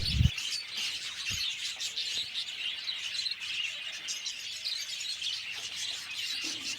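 A colony of budgerigars kept on a bird farm in West Bengal chirps and twitters continuously, a dense, fairly faint chorus heard with no voices over it.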